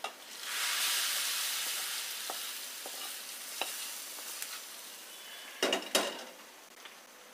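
Hot spice tempering with chilli powder poured into dal, setting off a loud sizzle that fades into a steady hiss, with a few clinks of utensils near the end.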